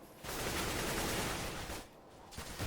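Sustained bursts of rapid gunfire in a CS:GO match at a Team SoloMid versus Team Dignitas StarSeries game, a dense crackling volley that briefly drops away and then resumes, heard without clear talk.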